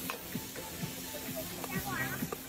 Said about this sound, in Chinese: 开始翻炒，还有这小感觉哈，啪啪啪